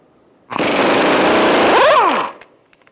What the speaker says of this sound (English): we're going to use a 29 millimeter socket. And we're going to undo our axle nut.